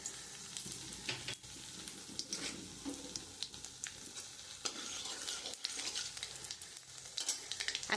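Nigella seeds frying in oil in a pan after aubergine, a steady close sizzle with repeated scraping stirs and small clinks throughout.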